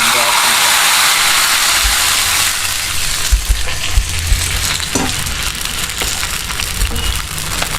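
Dried red chillies and mustard seeds with fenugreek and asafoetida frying in hot oil for a Tamil tamarind kuzhambu make a loud, steady crackling hiss, with sharper pops and spatters scattered through it.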